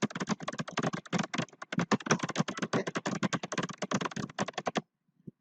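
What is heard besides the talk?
typing on a computer keyboard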